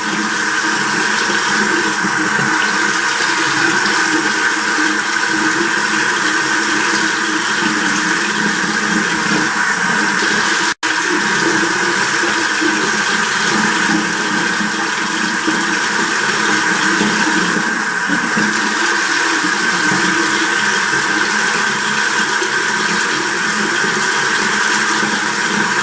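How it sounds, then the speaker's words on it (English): Tap water runs steadily and loudly at a bathroom sink for the whole stretch while a face is rinsed during a night skincare routine for dry skin, with a brief break near the middle and no talking. "Okay, and then I'm just going to rinse it."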